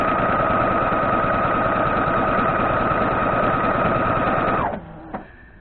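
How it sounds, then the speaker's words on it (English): A sewing machine stitches a quilt border in one loud, steady run that stops abruptly near the end, leaving only a short mechanical click. "So put the needle down, best you can. We're going to sew against the line,"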